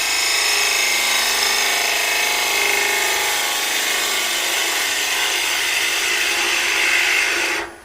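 A bowl gouge cuts into wood spinning on a lathe, a steady loud hissing scrape that holds evenly for several seconds before cutting off abruptly at the end.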